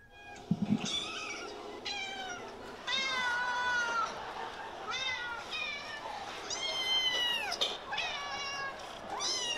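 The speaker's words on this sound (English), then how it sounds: "Cats meowing." Several cats meow repeatedly, overlapping high-pitched cries, close and fairly clear against a quiet background.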